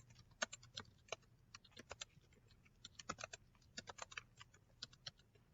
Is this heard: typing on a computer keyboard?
yes